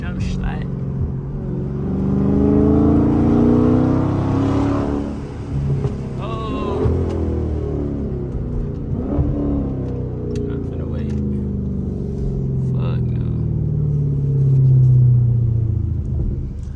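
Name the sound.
Dodge Charger car engine driving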